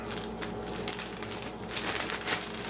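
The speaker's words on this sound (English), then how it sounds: "I've got a plastic bag here" Plastic crinkles and rustles continuously up close, with a few sharper crackles as it is handled.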